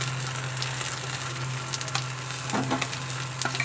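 Fish sizzles as it fries lightly in oil in a pan, a steady soft crackle with scattered pops and spits, close and moderately quiet, over a low constant hum.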